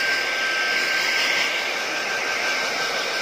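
A food blower dries a batch of french fries, producing a loud, steady whooshing roar with a high whine that holds constant throughout with no talk.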